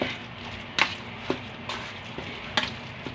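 Wet fish patty mixture with oyster sauce, garlic, onion, pepper and egg is stirred in a bowl, giving soft squelches with a few sharper scrapes and taps at irregular intervals. There is no talking.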